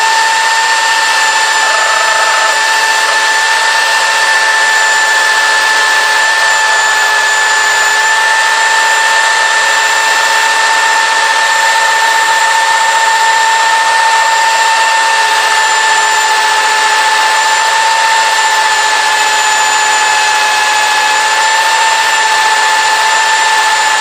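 A power tool grinds a wooden Viking axe handle with a loud, unbroken high whine held at steady pitch for the whole stretch, close and with no voices.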